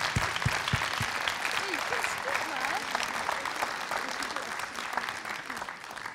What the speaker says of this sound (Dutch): En nog een goed applaus.